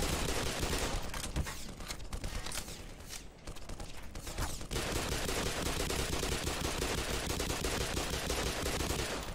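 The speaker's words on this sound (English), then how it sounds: "They start shooting at me anyways" Enemies firing guns in Black Mesa: dense, continuous automatic gunfire bursts, loud and close, easing briefly in the middle before resuming at full intensity.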